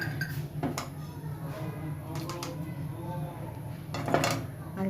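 Spoon clinking and scraping against a metal pot while spice-wash water is stirred into a fish curry with winter vegetables, several close taps over a low background hiss.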